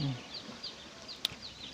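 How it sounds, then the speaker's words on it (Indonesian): Day-old hybrid broiler ducklings peep in faint, high, repeated chirps that sound somewhat distant over a soft background hiss, with one sharper click near the end. "anakan itik pedaging teman-teman"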